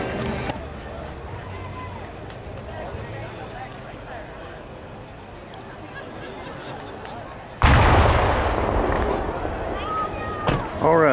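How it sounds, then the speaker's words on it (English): A cannon fires at a fall heritage festival, a sudden loud boom partway through that follows a long stretch of crowd ambience and people talking. It is followed by a lingering rumbling tail and further crackling. "there went the cannon"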